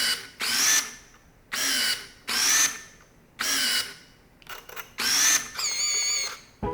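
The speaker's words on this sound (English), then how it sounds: "It is extremely loud, and so let me show you what it sounds like." Film advance motor of a Fuji GA645 medium format camera, five loud whirring bursts of about half a second each with short pauses between, close by with no talk.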